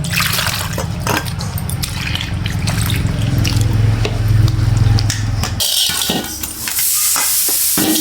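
Cut papaya pieces are swished and stirred by hand in a bowl of water, a loud, close, continuous sloshing and splashing that shifts to lighter drips and rattles near the end.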